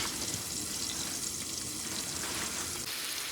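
Sweet potatoes fry in a pan with a steady, close hiss and crackle of hot oil that continues evenly throughout without any break.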